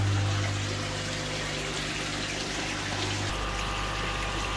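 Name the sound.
aquarium water pump running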